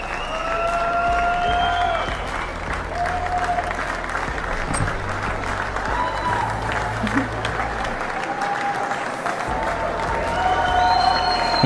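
A crowd applauds and cheers in a sustained wash of clapping and shouts, steady and fairly loud, with whistles rising above it now and then.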